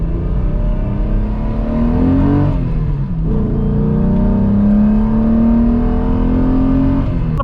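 Volkswagen Corrado VR6 engine revving hard, climbing through rising pitch in two long pulls with a brief dip and shift between them, loud and close with no talking.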